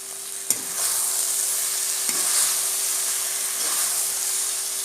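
Soybeans coated in tomato sauce sizzle with a constant bright hiss in a pan, stirred with a spoon that taps the pan now and then; no voices.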